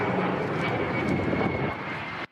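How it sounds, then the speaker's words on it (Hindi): US fighter jets land during the NATO Neptune Strike naval exercise. A loud, sustained jet engine roar holds steady, then cuts off abruptly at the end. "इस ड्रिल में अमेरिका के कई लड़ाकू विमान एक-एक कर वहां लैंड करते नजर आए।"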